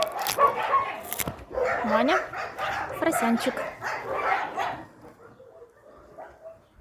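Dogs at an animal shelter bark and yip in a busy chorus, close and fairly loud, mixed with someone speaking, before the clip fades to quieter background.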